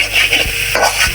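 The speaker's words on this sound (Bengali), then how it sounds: "তো এখন মশলা দিচ্ছে ভাইয়া, আর মশলাগুলোকে ভালো করে কষে নিচ্ছে" Duck meat frying with spices in oil, heard as a loud, close hiss with a couple of quick stirring scrapes over about a second, with no talk.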